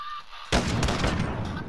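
Gunfire in a video game bursts in suddenly after a near-silent start, a loud, dense blast that rolls on as a sustained volley of shots for over a second.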